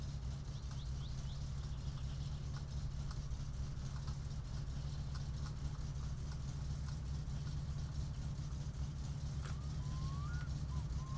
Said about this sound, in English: See if you can listen out for that engine sound change.